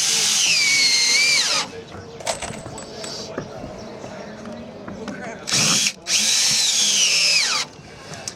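A power drill whines loudly as it drives screws into 2x4 raft framing, with two long bursts at the start and end separated by quieter clatter and handling noise.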